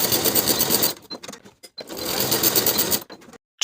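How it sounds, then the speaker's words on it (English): A sewing machine stitches short waistband seams on pull-on pants in two close, rapid bursts of mechanical whirring, separated by brief pauses and soft handling clicks. "sew those short seams with a 3/8 inch seam allowance"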